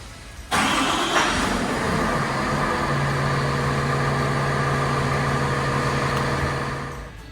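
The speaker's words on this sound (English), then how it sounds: "Now it's time to crank the machine up" A Caterpillar machine's engine cranks and catches, then settles into a steady, loud idle that runs on evenly close by before fading slightly at the end.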